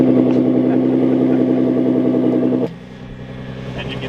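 A Nissan GT-R with an AAM active titanium exhaust, valve open, idles in a steady deep droning burble, then drops suddenly to a much quieter hum, close by and without voices.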